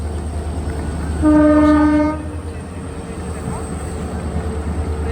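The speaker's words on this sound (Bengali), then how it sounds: "আমার রুম থেকে জানলা দিয়ে ট্রেন দেখা যায়" A train horn blares once for under a second over a steady low rumbling background heard through a room window, with the rumble continuing afterward.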